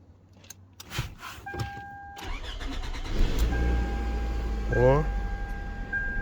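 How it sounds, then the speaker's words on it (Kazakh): A Toyota Camry 2.4 under repair has its engine cranked and started. A whirring starter turns over, the motor catches, then settles into a steady idle. Beeping chimes and voices can be heard nearby. "Қайтадан сымдарын жалғап оталдырып көреміз. Бағана газ басып оталып тұреді ғой."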